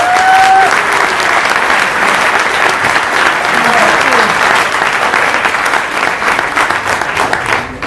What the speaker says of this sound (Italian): qui rivolgiamo un applauso